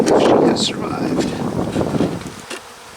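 Honeybees swarm over a hive frame holding brood, a dense buzzing hum close to the microphone, with wind rumble and a person talking over it.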